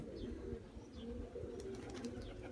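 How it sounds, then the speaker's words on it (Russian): A very old pigeon cooing, soft low repeated coos close by, with faint chirps and light rustling in a quiet space. "Очень старый голубь."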